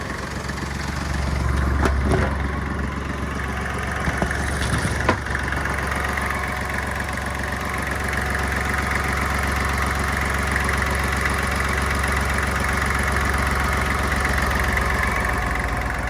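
Kubota GL-25 mini tractor diesel engine idling steadily at close range, a low, even rumble with a couple of brief clanks early on and no talk.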